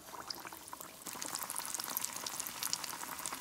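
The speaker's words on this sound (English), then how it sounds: "So we're gonna start frying the cheesy Eddo first" Steady sizzling and crackling of cheesy eddo balls frying in hot oil in a pan, with a brief quieter start before the sizzle swells and stays loud and busy.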